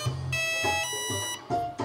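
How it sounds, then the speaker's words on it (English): Onboard computer of an RC MiG-15 vintage fighter model beeping as it powers on, a quick series of electronic tones in several distinct pitches. "the computer is going to beep at us to let us know it's online."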